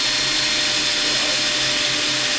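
A steady, loud motorized whine runs throughout, a power drill grinding continuously into a broken engine head bolt, with no pauses or voices.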